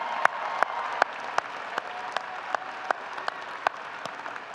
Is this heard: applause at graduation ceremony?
yes